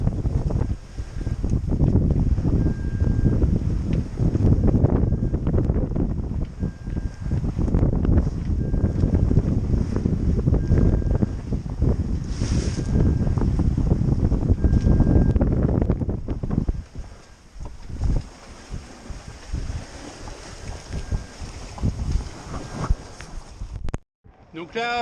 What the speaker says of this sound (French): Là, je me suis pris un petit grain, mais ce qui me permet d'avancer à 7 nœuds.